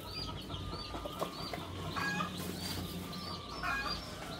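Two-week-old chicks chirp in a thin, busy chorus of high peeps, steady and fairly close throughout, with a low background hum beneath them.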